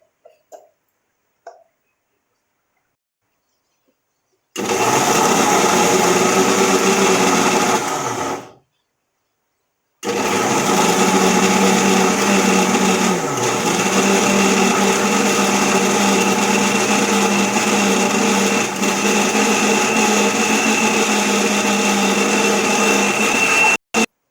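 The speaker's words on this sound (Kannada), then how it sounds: "ತುರಿಯನ್ನು ಹಾಕಿ ರುಬ್ಬಬೇಕು." Mixer grinder grinding grated coconut with salt for jackfruit gojju, a loud steady whine running several seconds, cutting out briefly, then restarting for a long continuous run.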